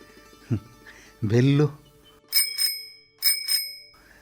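Two short double rings of a bicycle bell in a Kannada radio play, bright and close, following a voice; the bell stands alone after the talk.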